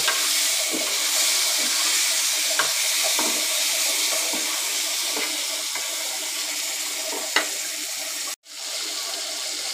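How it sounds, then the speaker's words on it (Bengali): Bele fish frying in hot oil, a steady broad sizzle with faint scattered pops, close and continuous, briefly dropping out near the end. "এই যে আমি মাছটাকে এখন এভাবে ভেজে নিচ্ছি"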